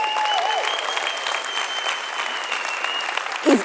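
A conference audience at a spring political rally applauds steadily, a dense even wash of clapping across a large hall with a faint sustained tone and a brief voice at the end.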